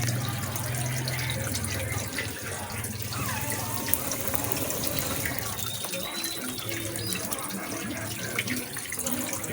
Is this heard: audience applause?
no